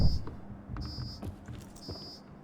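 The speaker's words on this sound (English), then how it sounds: "Beeping's quite annoying." An electronic device gives three annoying, high-pitched beeps, each about half a second long and evenly spaced, over a low background rumble.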